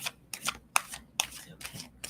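Playing cards riffled and shuffled in a string of quick, crisp bursts, close up and fairly quiet.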